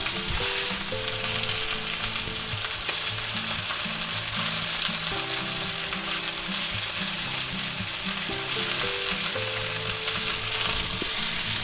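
A thick chuck steak sears hard in a cast iron skillet, giving a loud, steady sizzle and crackle that runs unbroken throughout, close up, with no voices.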